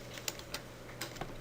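A few separate key presses on a computer keyboard entering a value, soft clicks spaced irregularly over a faint steady hum, with no one talking.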